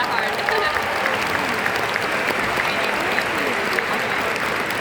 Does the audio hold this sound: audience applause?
yes